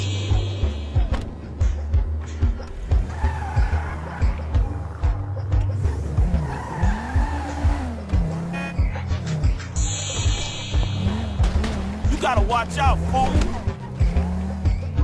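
A car in GTA 5 zombie survival mode drives with an engine whining and rising in pitch, shifting through revs, with occasional tire squeals and impacts, under frequent talk from a player.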